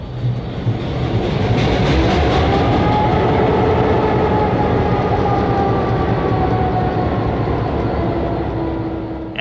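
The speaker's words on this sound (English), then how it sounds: "Reed and Tim fired up the locomotive for the trip to Swan Lake." A diesel locomotive numbered 4310 runs on the Mississippi Delta Railroad, its loud, steady engine drone and rolling wheel noise sustained close by, with faint squeals and a short metallic clank at the end.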